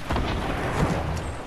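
Rockets thrown in a PlayStation 4 shooter game explode in a dense rumbling burst, loud and close, with a heavy low boom that holds for over a second and no talk over it.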